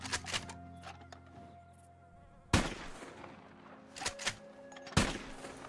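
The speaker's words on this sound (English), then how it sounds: "Let's do the varmint rifle." Varmint rifle shots in Red Dead Redemption 2 while hunting ringneck pheasants, two sharp loud cracks spaced a few seconds apart, with quieter game ambience and small ticks between them.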